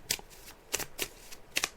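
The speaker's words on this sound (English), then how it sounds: "so I'm just shuffling the cards now." A deck of tarot cards is shuffled by hand in quick, crisp riffling bursts at an uneven rhythm, close and fairly quiet, with no talk.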